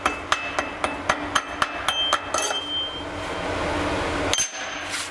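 A chipping hammer knocks slag off a fresh 7018 stick weld bead, about nine light, quick metallic taps with a ringing clink, then a softer scraping hiss at close range.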